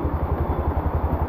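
A small motor idles close by in a steady, even chugging pulse that repeats at a regular rhythm, with no voices over it.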